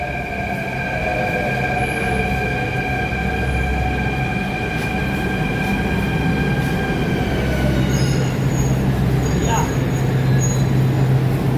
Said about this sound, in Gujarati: આપણી આવી ગઈ છે ટ્રેન તમે જે જોઈ શકો છો અત્યારે આ છે દિલ્હીની મેટ્રો ટ્રેન